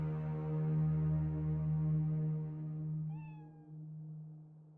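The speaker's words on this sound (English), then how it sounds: "I just heard the little kitty go meow" A cat in the video game Pillars of Eternity gives one long, drawn-out meow over a steady low hum, followed by a short rising chirp.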